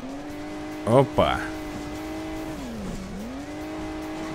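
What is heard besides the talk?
car engine and tires driving in video game Hill Climb Racing 2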